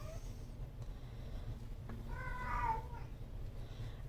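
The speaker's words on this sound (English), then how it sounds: "Sorry about the cat in the background." A cat meows in the background of a home kitchen, one faint drawn-out meow midway over a low steady hum.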